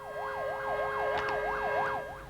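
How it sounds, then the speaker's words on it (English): Fire engine sirens wailing in a city during a firefighters' one-hour stoppage in Sydney, a steady rising-and-falling electronic siren cycling rapidly and loudly over low traffic rumble. "They set their sirens wailing in the city during the 1-hour stoppage."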